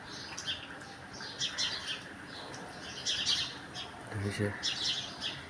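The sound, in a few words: birds chirping while being fed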